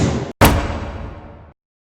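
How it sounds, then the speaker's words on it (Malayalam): A single loud rifle shot fired at a shooting spot in Kodaikanal, a sharp blast that rings out and decays over about a second. "അപ്പൊ നമ്മള് ഒരു വെടി വെക്കാൻ പോണ്"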